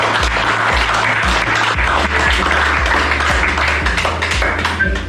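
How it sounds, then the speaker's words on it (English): Audience applause at an award presentation for Rainbow International of South Central Iowa, steady and dense for five seconds, with a low rhythmic thumping underneath throughout. "So give you guys a round of applause."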